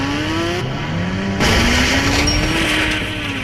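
Motorbike engine in the Indian Bike Driving 3D game, revving loud and close with a continuous droning tone that steps up in pitch midway and holds, alone without talk.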